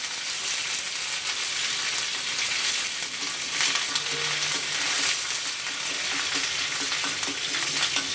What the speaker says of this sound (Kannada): ನಂತರ ಒಗ್ಗರಣೆಗೆ ತೆಂಗಿನೆಣ್ಣೆ ಸಾಸಿವೆ ಕರಿಬೇವು ಇದನ್ನು ಹಾಕಿ ಒಗ್ಗರಣೆ ಹಾಕಬೇಕು ಚಟ್ನಿಗೆ